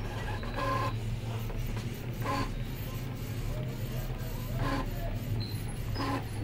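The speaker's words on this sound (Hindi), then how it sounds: "ये प्रिंट सेंड हो गया और यहाँ से हमारा प्रिंट जो है वो स्टार्ट हो गया" An Epson L1800 inkjet printer printing a test page, its mechanism humming steadily with repeated whirring passes of the print head every second or so, close and fairly loud with no talk.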